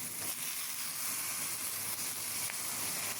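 Fish laid into a hot pan with onion, garlic, chili, turmeric and cumin sizzle in a steady, dense, bright hiss with occasional pops, close and continuous, with no talking.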